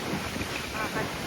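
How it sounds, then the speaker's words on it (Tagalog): Strong wind at Suluban Beach in Bali buffets the microphone in a constant roar, with a broad rushing noise like surf beneath, no clear voices. "Pero sobrang lakas ng hangin."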